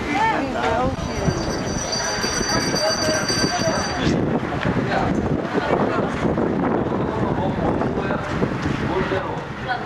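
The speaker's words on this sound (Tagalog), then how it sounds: "It's windy." Strong wind blusters across the microphone outdoors on a mountainside overlooking the ocean in Tagaytay, Philippines, a continuous loud rumble with people talking over it.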